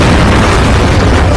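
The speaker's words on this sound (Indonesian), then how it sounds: "Thomas langsung masuk ke tank dan menembakkan peluru ke arah Reimer." A tank fires a shell in a war film about fighting Dutch soldiers, a single massive, loud boom that fills the whole moment with dense, roaring low-end blast.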